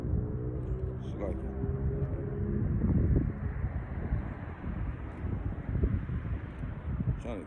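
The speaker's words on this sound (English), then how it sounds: "damn wind blowing" Outdoor wind buffeting a microphone in low rumbling gusts that persist throughout, with someone speaking over the noise.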